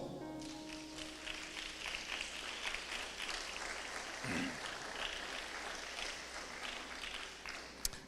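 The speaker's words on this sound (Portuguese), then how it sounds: "dando um aplauso para o Senhor" Church congregation at an evening service claps for the Lord, a steady, moderately distant wash of applause throughout, with a faint voice underneath.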